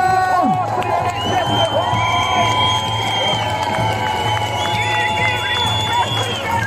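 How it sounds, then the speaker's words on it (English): A large outdoor crowd gathered for NHS workers, nurses among them, outside the Lord Mayor's office in Manchester, cheering, whooping and shouting with some clapping, a dense, steady roar throughout with voices mixed in. "Round of applause for the NHS."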